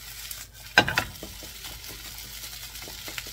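Shrimp fried rice with turmeric and vegetables sizzles in a pan, with a brief burst of stirring and scraping near the start, then a quieter steady fry close up.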